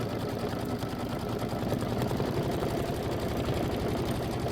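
An embroidery sewing machine stitches out a Kimberbell mini quilt block, its needle hammering in a fast, steady mechanical rhythm with a constant motor hum, close and continuous throughout.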